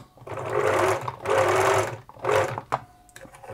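A 1980s Singer Futura sewing machine runs in three short whirring bursts separated by brief pauses, with a small click near the end.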